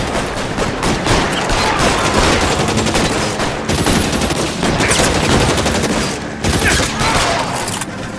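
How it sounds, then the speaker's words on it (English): Rapid gunfire from the video game LA Noire, with dense volleys of loud shots in a sustained fusillade, briefly broken by short gaps and hard-hitting bursts throughout. "Shots fired and suspects are down."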